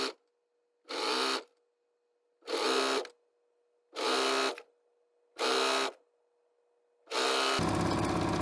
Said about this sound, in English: So you're just going to sew straight down, sew this tube closed, keeping that cord and that fold away from your needle.